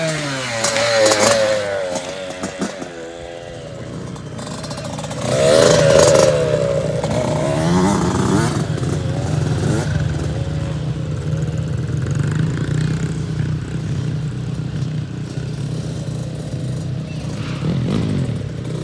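A Yamaha YZ65 dirt bike fitted with an FMF Turbinecore 2 spark arrestor exhaust revs up in short bursts, then settles into a loud, steady, buzzing two-stroke idle close by.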